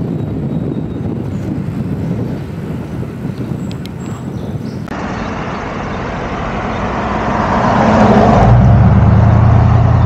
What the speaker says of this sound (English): Traffic in the GC